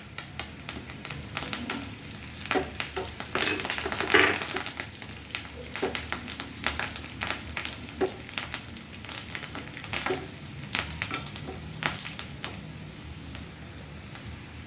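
Sliced onions and curry leaves frying in hot oil as a tempering for Kerala chicken stew: a continuous crackling sizzle full of rapid pops like rain on a surface, with occasional stirring knocks and no talk.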